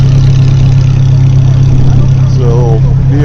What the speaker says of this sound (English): As this Ferrari drowns out the sound.